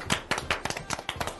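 A children's audience practices clapping at a live stage show as three singing performers come out: quick, uneven bursts of hand claps, fairly faint and close.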